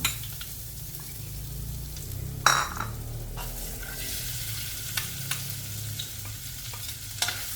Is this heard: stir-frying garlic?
yes